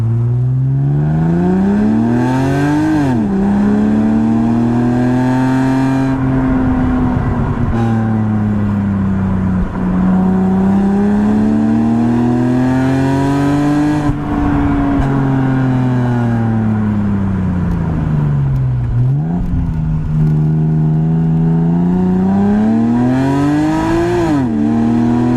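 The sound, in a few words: car exhaust revving with Magnaflow muffler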